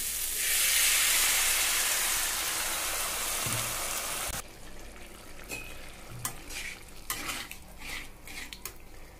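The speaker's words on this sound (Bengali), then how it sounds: "এবার দিয়ে দেবো পরিমাণ মতো জল।" Water poured into spiced dal with gaanthi kochu (taro) as it sizzles in the pan: a loud, dense hiss for about four seconds that suddenly drops to a quieter bubbling with scattered clinks.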